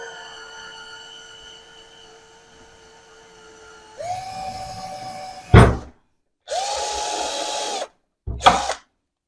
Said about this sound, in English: I have a 2mm drill,